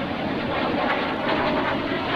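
A jet aircraft flies a low-speed dirty roll with gear and flaps down at the 2004 NAS Oceana airshow, a steady, loud broadband engine roar held throughout without any talk.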